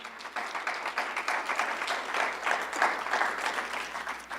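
A church congregation applauds together in a steady, moderately loud wash of clapping that holds for several seconds, with no voices standing out.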